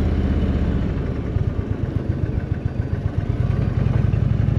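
A motorcycle engine runs on the road during a Route 66 trip near Los Angeles, a loud, close, steady mid-pitched drone with a rapid pulsing beat that grows more pronounced partway through, no voices over it.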